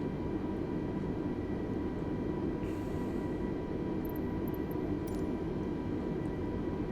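An EasyJet airliner taxiing in Microsoft Flight Simulator 2020, with a steady low engine rumble droning evenly throughout and no talk.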